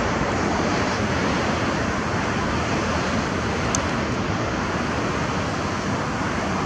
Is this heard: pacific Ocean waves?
yes